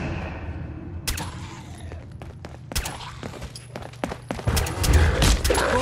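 Sharp, scattered shots and impacts in Fallout 4 crack out at irregular intervals over a low droning background, with clustered bursts toward the end.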